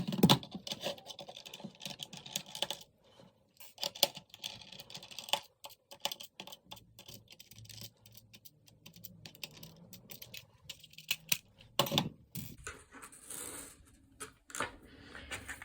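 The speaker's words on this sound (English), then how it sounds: "there's 2 more screws hiding under here" Small screws being worked out of a Razer Wolverine V2 Chroma game controller: close, light clicking and scratching of a screwdriver and plastic shell, with scattered taps and brief rattles, no talking.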